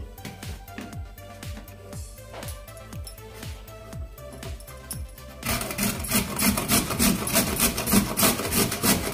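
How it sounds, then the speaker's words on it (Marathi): Radish grated coarsely on a hand grater: rapid rhythmic rasping strokes, close and steady, growing louder and denser in the second half, with no talking. "सर्व मुळा मी किसून घेते पहिल्यांदा।"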